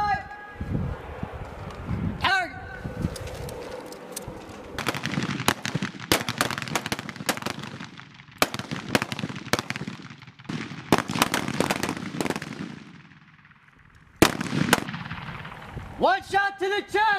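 Rifle gunfire from U.S. Marines during combat marksmanship drills outdoors, sharp loud reports fired in rapid clusters and single shots across the range, with shouted commands between volleys.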